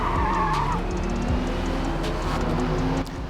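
A Squadra Corse race car skids off track at Le Mans in a racing game, with a loud, close tire squeal over a rumbling engine that fades after a few seconds.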